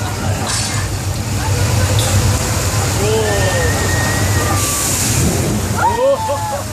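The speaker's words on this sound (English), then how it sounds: "The water crashes down the hill, gets pumped right back into the tanks at the top of the hill" Steady rushing and sloshing of a large mass of water pouring down a hill on a theme park ride at Universal Studios Hollywood, with people talking and exclaiming over the constant roar.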